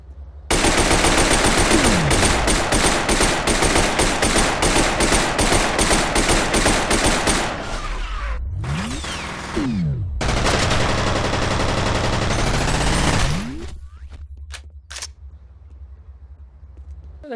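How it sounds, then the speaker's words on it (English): Pistol gunfire in the video game F.E.A.R., loud rapid bursts of shots in quick succession, then a pause and another long dense volley, ending with a few scattered single shots and quieter ambience. "Notice no casings are ejected from these pistols."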